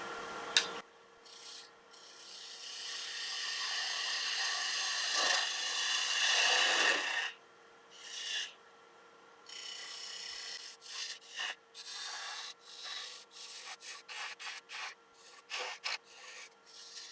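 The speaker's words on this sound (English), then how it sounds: "Switch over to standard spindle gouge." A standard spindle gouge shaping wood on a lathe while turning an Easter bunny, with a steady rasping, rubbing cut for several seconds followed by shorter intermittent scraping passes.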